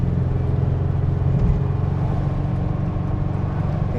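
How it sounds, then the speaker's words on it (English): A 1959 Porsche 356A's loud exhaust drones steadily while driving, a close, continuous low engine rumble with a slight shift in pitch partway through, no talk. "It's this exhaust is a little loud"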